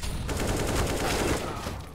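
Rapid, dense gunfire in the video game CS:GO, a burst of overlapping shots rattling continuously before tapering off at the end.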